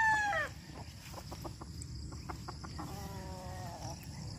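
Gamefowl stags on a farm cluck in a short run of faint calls, and a rooster crows at the start and again toward the end, over steady outdoor background noise.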